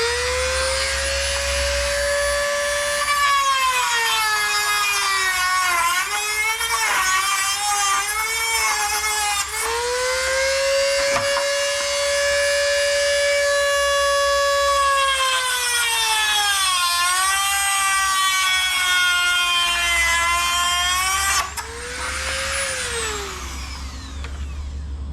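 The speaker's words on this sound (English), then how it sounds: "I'm just cutting them off with a cutoff wheel" A cutoff wheel slices the handles off a 5-gallon plastic bucket, giving a loud, continuous high whine that dips and rises in pitch as the wheel bites and frees, near and steady throughout.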